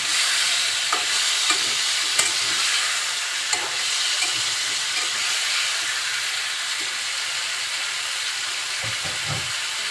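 Pumpkin pieces frying in spice paste with a constant hissing sizzle, punctuated by scattered scrapes and taps of a spatula stirring the pan, steady and fairly loud throughout with no voices.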